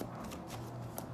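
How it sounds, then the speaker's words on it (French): Tarot cards are shuffled and drawn, giving soft, quiet riffling and light slapping sounds in quick irregular bursts, close by and faint. "je vais prendre une dernière carte"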